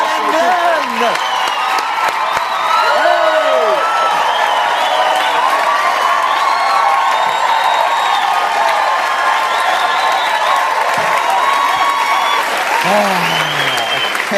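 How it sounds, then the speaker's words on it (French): A studio audience at a comedy game show bursts into sustained loud applause mixed with cheers and whoops, a dense wall of clapping that carries on throughout with scattered voices shouting over it. "On applaudit Yann Engman!"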